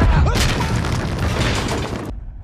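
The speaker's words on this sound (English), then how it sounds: "Who's bombing them now?" Cannon fire booms in a pirate movie scene aboard ships, loud and dense, with rolling explosive rumbles and crackling debris for about two seconds before cutting off abruptly.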